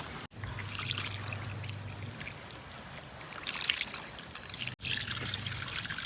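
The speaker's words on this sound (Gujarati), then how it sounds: "મામા પાણી પાઈ દો." Water poured onto plants in a village garden, a steady trickling pour running for several seconds with brief breaks, close by and moderately loud, with a low hum beneath it.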